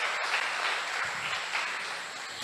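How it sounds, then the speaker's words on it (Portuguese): A church congregation applauds in praise of Jesus, a steady, moderately distant wash of clapping that holds evenly throughout the moment without any voices over it. "Dá uma salva de palmas para Jesus"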